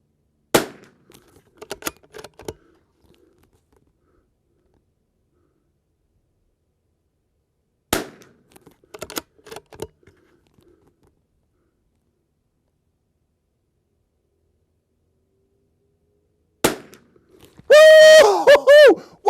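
Three sharp, loud shots from a Christensen Arms Ranger 22 rifle, each about eight seconds apart, every crack trailed by brief clatter and silence. A tonal whine sweeps in over the last seconds.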